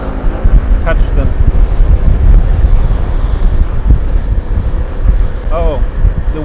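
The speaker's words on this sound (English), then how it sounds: "the wind is very strong" Strong wind on Orchid Island (Lanyu) in Taitung County buffets the microphone with a heavy, continuous low roar, loud and close throughout, with a couple of faint, brief voice sounds underneath.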